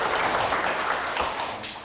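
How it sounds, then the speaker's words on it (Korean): An audience applauds a redevelopment committee chairperson at a Golden Bell event, with a dense, steady wash of clapping that holds for about two seconds. "한 번 할 때마다 박수를 3번 정도 쳐주세요"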